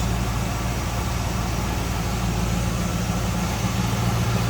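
A warmed-up 1978 Chevrolet Camaro with a 305 V8 idles steadily, a low, even rumble under broad hiss with no talking.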